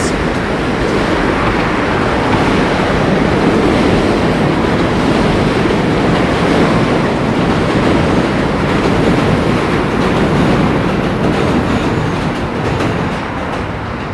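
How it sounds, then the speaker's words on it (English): A New York City Z subway train passes close by, a loud, continuous roar of rolling wheels and rattling cars that fills the whole stretch and eases slightly at the end. "Z-train coming across."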